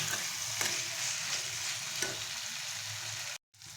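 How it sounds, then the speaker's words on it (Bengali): Fried potato pieces cook in a spice paste, stirred in a pan while making a Bengali kokila fish curry: a continuous close sizzle with a few scraping stirs and a brief silent gap near the end. "এবারে আমি ভাজা আলুগুলো দিয়ে দেব দিয়ে আবারও মশলার সঙ্গে মিশিয়ে নিয়ে দু মিনিট আমি আলুর সঙ্গে মশলাটা দিয়ে রান্না করে নেব"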